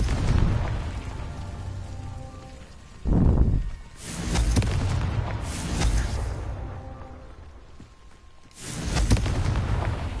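Several explosive blasts from the Confringo fire spell in Hogwarts Legacy, with a sharp low-heavy burst near the middle and broad roaring bursts around it, rumbling and loud with no talking.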